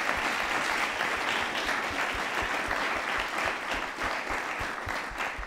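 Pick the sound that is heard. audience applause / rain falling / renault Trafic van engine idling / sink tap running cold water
audience applause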